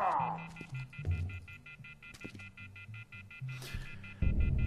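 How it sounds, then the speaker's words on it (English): A telephone left off the hook in the video game The Wolf Among Us gives a steady repeating electronic tone, with low game ambience and thumps underneath and a louder burst at the end. "Someone needs to hang up this phone."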